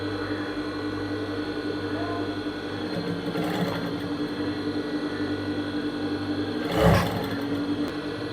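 A sewing machine stitches blouse fabric in a steady, continuous whirring hum with one short louder burst near the end, close and without talk.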